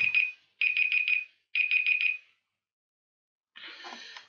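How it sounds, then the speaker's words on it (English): A phone ringtone plays during a Minecraft Skyblock survival session, sounding as repeated bursts of bright electronic beeps in quick clusters of four, followed after a pause by a brief rougher burst of noise. "Yeah, that was my phone. I need to change that tone."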